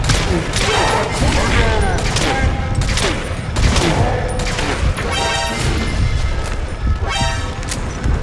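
Sustained, dense gunfire in Metal Gear Solid V plays loud and close, continuous shots and impacts filling the whole stretch while a player talks excitedly over it.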